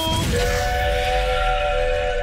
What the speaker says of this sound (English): The whistles go woo.